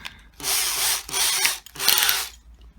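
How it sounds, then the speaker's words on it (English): Three short bursts of a cordless driver whirring as T20 Torx screws are backed out of a Bosch AKE30S chainsaw housing, close and clear with brief pauses between. "I have a feeling I'm going to have to open up all of these screws to get in there"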